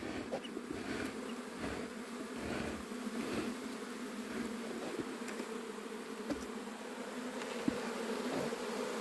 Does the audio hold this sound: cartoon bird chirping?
no